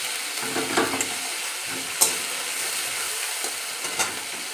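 Green chilies dropped into a frying hilsa fish curry, a steady close sizzle and hiss with a few sharp stirring clanks, no voices.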